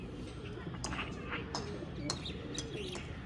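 Pigeons of a Bengali breed with distinctive eyes coo and chirp softly in short repeated calls, fairly faint and close, with no talk over them.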